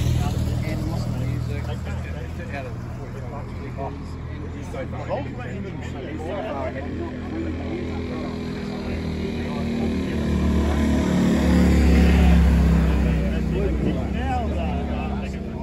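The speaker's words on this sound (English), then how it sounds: "Check at that exhaust." A motorcycle exhaust idles and rumbles close by, rising in a fuller swell toward the end, while people talk over it.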